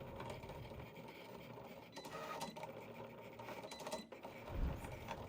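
A Cricut machine cuts smart material for a customized pillow project with a steady, faint mechanical whir, soft clicks and small motor shifts, and no talking.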